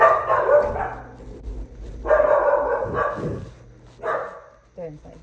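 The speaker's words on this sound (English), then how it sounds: "I just wanted to make sure the dogs weren't out there though" Several dogs barking inside a house, loud and near, in repeated bursts with a few yips, while people talk nearby.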